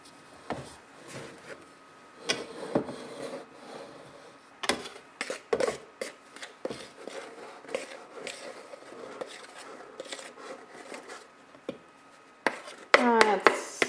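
Flour, baking powder and salt stirred together in a bowl: irregular close scraping and soft knocks of a utensil against the bowl, with a cluster of sharper clinks near the end and no talking.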